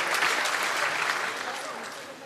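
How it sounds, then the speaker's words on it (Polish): Audience applause at a concert with cello and keyboard performers, a dense, steady wash of clapping from a large crowd that slowly fades. "Jeszcze raz wielkie brawa za rozpoczęcie naszego pięknego wydarzenia."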